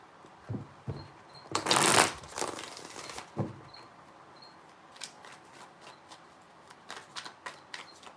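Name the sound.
shuffling tarot cards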